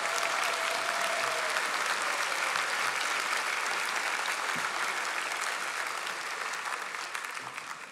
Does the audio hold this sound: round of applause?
yes